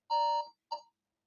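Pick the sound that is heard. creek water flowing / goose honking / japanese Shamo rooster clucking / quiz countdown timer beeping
quiz countdown timer beeping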